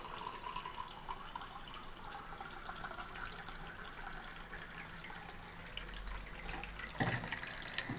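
Water trickles quietly from a water purifier's waste outlet near a tap, a faint steady flow with a few soft clunks and a brief splash toward the end.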